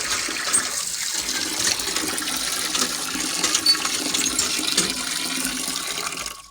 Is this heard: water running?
yes